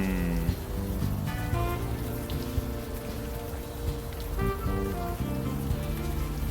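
Steady rain patters throughout a scene in the video game Unavowed, a constant soft hiss under sustained musical tones and low synth notes, with no talk.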